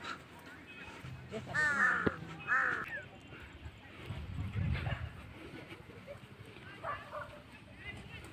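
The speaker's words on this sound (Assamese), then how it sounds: "গোটেই কাউৰীয়ে কাউৰী" Crows caw in a park, a few rough calls in a cluster close by, then fainter, with people talking over the background noise.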